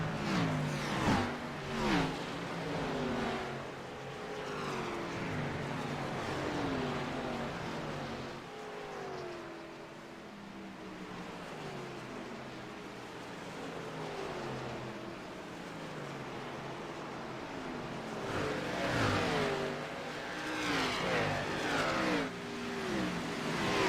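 Race cars in a video game racing at Phoenix Raceway, engines droning and revving continuously with several cars whining past in pitch-shifting sweeps, loud and close, with no talking.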